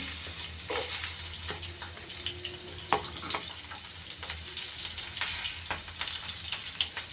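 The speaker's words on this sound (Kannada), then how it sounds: "ಸ್ವಲ್ಪ ಎಣ್ಣೆ ಹಾಕ್ಕೊಂಡಿದ್ದೀನಿ ಅದಕ್ಕೆ ಈರುಳ್ಳಿ ಹಾಕ್ಕೊತಾ ಇದ್ದೀನಿ" Onions frying in a little oil in a pan while making masala puri at home: a steady close sizzle with occasional faint clinks and stirring noises, no voices.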